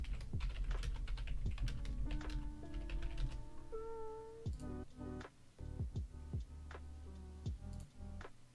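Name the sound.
computer keyboard typing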